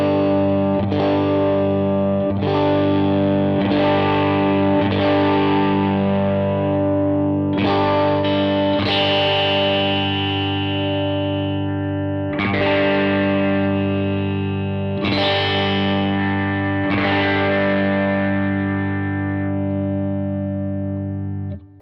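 Shelton Strat-style electric guitar with four pickups played through distortion and modulation effects, a run of strummed chords and ringing notes with sustained tails, loud and continuous with no talking.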